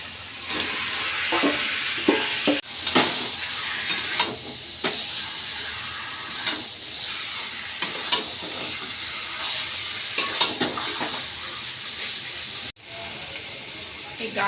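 Marinated chicken fries in spiced oil with a constant close sizzle. Intermittent scrapes and clinks of stirring sound throughout, and brief thumps mark where the meat is added.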